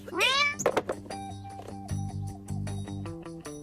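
A cat gives one clear, close meow with a rising then falling pitch at the start, followed by softer rhythmic sounds and background music.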